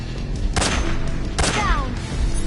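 Gunfire in the Metal Gear Solid 3 video game, two loud sharp shot bursts a second apart over a rumbling battle background, with a whistling sweep trailing the second.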